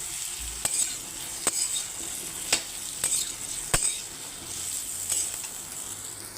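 Spices for a papaya and potato curry sauté in a pan and are stirred, with a soft steady sizzle broken by sharp spoon scrapes and clacks at a regular pace, near and fairly quiet.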